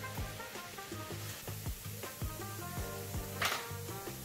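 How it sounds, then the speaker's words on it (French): Garlic sizzling in a pan in which monkfish tail was cooked, a steady crackling fry with a series of close scraping stirs and one sharp hiss near the end, no voices. "On va commencer par fondre ou par faire revenir l'ail."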